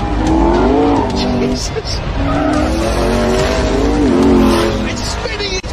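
A car stuck in sand, spinning its wheels in sixth gear in the desert: a loud engine drones and whines in rising and falling waves, with a man's startled exclamation over it.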